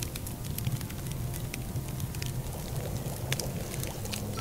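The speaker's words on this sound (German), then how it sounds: "Jetzt blubbert heißes Wasser." Hot water bubbles over a fire in a video game, steady dense bubbling and fizzing with a low rumble underneath and scattered crackly pops, moderately loud and continuous, with no speech.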